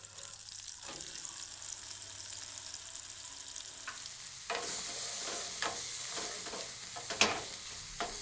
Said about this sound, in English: Sauté the onions and garlic for 2 minutes to enhance the flavor of your loaf.